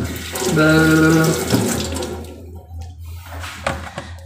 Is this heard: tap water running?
yes